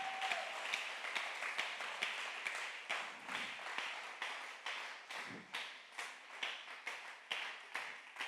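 A church congregation claps and cheers in praise, with sustained rhythmic applause from many hands that swells and pulses steadily, heard from a moderate distance and fairly faint, with no clear speech over it.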